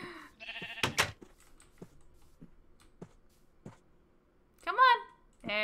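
Cartoonish sheep bleats in a sheep-farming video game, a couple of short wavering calls at the start and another near the end, with soft clicks and a quiet speaking voice in between.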